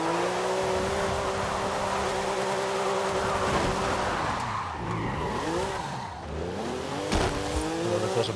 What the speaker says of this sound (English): Although that was a burnout, not really a drift fight